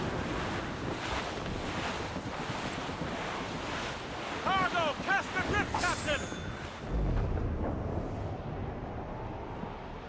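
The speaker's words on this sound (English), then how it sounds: "That wind's trouble, Captain Cormac." Strong wind howling over open sea in the video game Assassin's Creed Rogue, with surf and waves washing steadily throughout, brief bird-like chirps midway, and the roar dropping to a calmer rush near the end.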